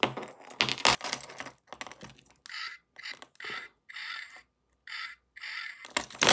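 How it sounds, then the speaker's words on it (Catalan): House keys on a keyring jangle in a series of short bright bursts with brief silent gaps between them, close and clear with no talking over them. "Les claus de casa, que mireu això."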